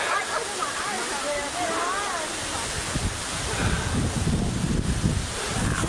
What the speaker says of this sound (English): This is the waterfall of Ein Gedi